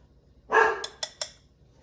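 A dog barks once, followed by a few short fainter clicks or taps, set somewhat in the background of a quiet home kitchen with no talking.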